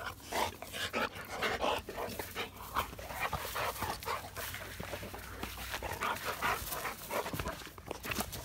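A dog pants quickly and rhythmically at close range and lets out high, thin whimpers and a few short yips between breaths. The animal sounds excited and restless, and no one speaks.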